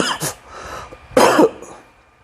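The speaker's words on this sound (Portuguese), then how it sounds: "mesmo assim ainda tossi um pouco" A person coughs up close, two short harsh bursts a second apart with a throaty rasp between them.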